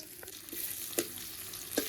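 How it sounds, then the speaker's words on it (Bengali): Thinly sliced medium onion frying in hot oil with fenugreek and cumin, a soft continuous sizzle with a few light stirring taps, close and without talk. "পেঁয়াজটা হালকা করে ভেজে নেবো"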